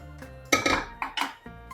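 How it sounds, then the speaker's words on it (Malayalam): A metal spoon clanks and scrapes against a cooking pot while green gram sambar vegetables are stirred together, giving a few sharp, close knocks and clinks with short pauses between them. "ഇനി നമുക്കിത് എല്ലാം കൂടെ മിക്സ് ചെയ്യേ"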